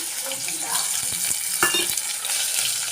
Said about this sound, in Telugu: ఆయిల్ వేడైందండి. దీంట్లో ముందుగా కడిగి పెట్టుకున్న డ్రై ఫిష్ వేస్తున్నాను.